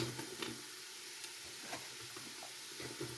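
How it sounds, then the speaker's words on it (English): Vegetables coated in flour simmering in a pan while being stirred, a faint steady sizzle with soft scraping and light clinks throughout. "you're going to let it simmer for another minute, but you got to be stirring this the whole time"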